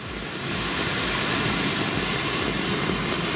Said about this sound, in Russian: Машина едет, смотрите как.